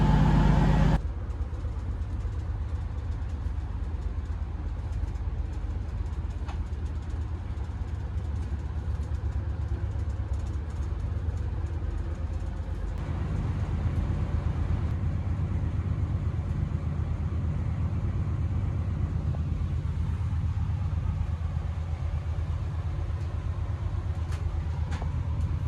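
Steady low rumble and drone inside a Cross Country train's first class carriage, a continuous engine hum and rolling noise that swells slightly partway through, with no talking.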